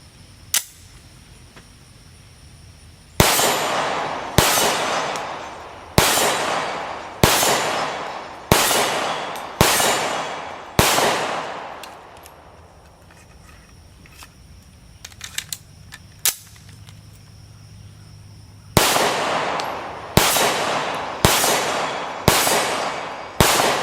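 A Remington R51 Gen 2 pistol fires Gold Dot rounds at a steel plate from 27 yards: a steady string of sharp, loud reports, a pause with faint clinks, then another string of shots.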